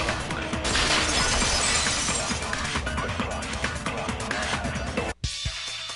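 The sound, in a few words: vase breaking, sound effect in a video game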